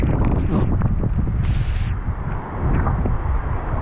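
Strong wind gusting outdoors near a tricycle, a loud continuous roar with buffeting bursts and no speech.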